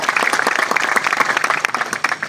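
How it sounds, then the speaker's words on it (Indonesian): An audience applauds at a gathering of village security guards, dense steady clapping from many hands close by for a couple of seconds. "Aplaus untuk Pak Sardianto."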